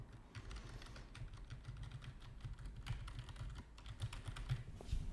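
Clicky keys on a fairly loud HyperX gaming keyboard, typed in a quick, uneven stream of close, crisp clacks over a low steady hum, with no voice.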